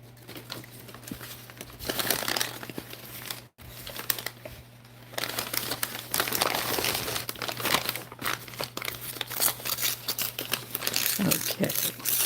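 Paper being handled and pressed for a junk journal glue page, bursts of crinkling and rustling scattered through the stretch at close range, with a brief pause early on and a low steady hum beneath.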